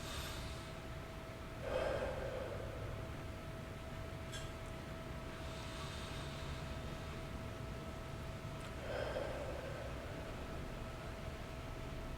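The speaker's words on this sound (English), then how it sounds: "Take a couple more deep breaths." Two slow, deep breaths during a guided meditation, each a soft airy rush near 2 and 9 seconds over a steady low hum and background hiss, with no talking.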